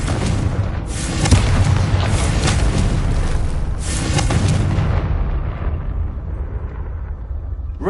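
A Confringo blasting spell exploding in the video game Hogwarts Legacy, a loud, heavy boom with crackling bursts that rumbles on and slowly fades over several seconds.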